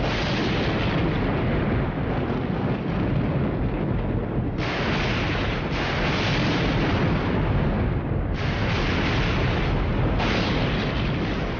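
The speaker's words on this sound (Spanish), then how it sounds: "Una tormenta tropical en las tierras altas de Kenia." Thunder from a tropical storm over the Kenyan highlands rolls as a loud, sustained rumble with heavy low-end booms, continuous for several seconds without speech.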